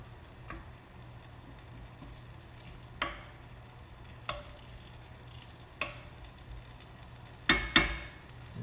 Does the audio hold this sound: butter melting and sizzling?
yes